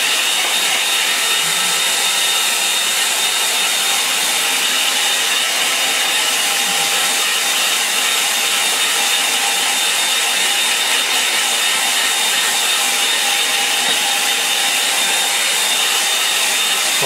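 A hair dryer blows over an acrylic meadow painting, a loud, constant airy whoosh with a steady motor whine that holds unchanged throughout, with no voices.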